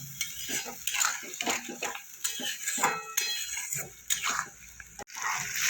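Spice paste of Kashmiri chilli and a little water being stirred and fried in a pan for a Bengali fish jhal, with repeated scraping and clinking of a utensil against the pan, close and irregular.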